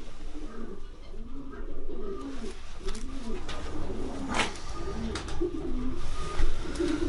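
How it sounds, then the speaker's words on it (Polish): An old breeding pigeon, a male racing pigeon from 2005, coos in repeated rolling, throaty low phrases close by, with faint background noise and a brief sharper sound midway. "Jest to stary już gołąb"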